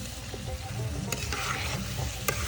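Onions are stir-fried in a pan for onion bhuna, a steady close sizzle with a spoon scraping and stirring, plus a couple of sharp clacks against the pan.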